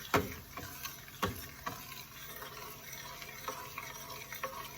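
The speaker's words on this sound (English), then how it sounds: "You have to continuously keep stirring" Costco butter simmers into ghee in a pan while a utensil stirs it, giving scattered scraping clicks and taps over a faint, constant sizzle.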